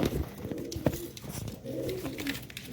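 Several pigeons coo close by in throaty, overlapping bursts, with rustling and faint chirps mixed in and no talking.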